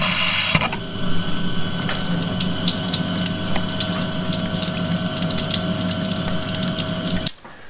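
Coolant gushing over a hot workpiece on a lathe, a loud steady rush of liquid with a pump hum beneath, close by, running for several seconds before cutting off sharply near the end.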